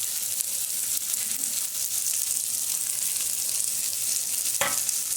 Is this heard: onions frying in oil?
yes